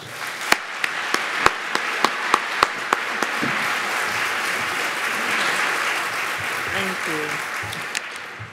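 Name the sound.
audience applause welcoming Secretary Marybel Batjer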